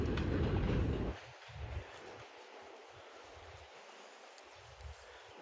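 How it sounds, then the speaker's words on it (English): A New York City subway Q train rumbles by outdoors near Coney Island beach, a loud broadband roar for about a second before fading into quieter, intermittent low clatter and distant wind. "You hear the subway. That's a Q train."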